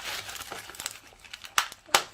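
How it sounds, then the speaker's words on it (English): Packaged gloxinia corms are unwrapped at close range in crinkly rustling plastic, with two sharp, loud crackles standing out near the end. "So I'll just unwrap them quickly."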